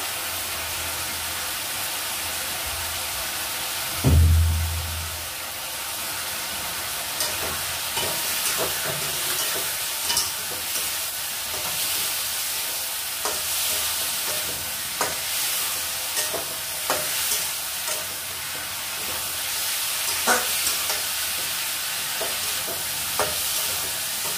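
Spices and a bay leaf sautéed in oil in a pan, with steady low sizzling and intermittent scraping stir strokes, a louder clunk near the start, and no talking.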